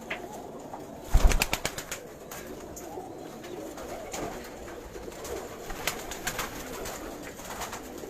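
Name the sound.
pigeons cooing on a Karachi rooftop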